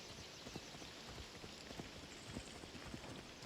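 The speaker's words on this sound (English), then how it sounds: "Horse is going nuts." Horse hooves clip-clop in the Assassin's Creed Odyssey video game, a quick, faint patter of steps blended into a soft, hissy ambient wash with no voices.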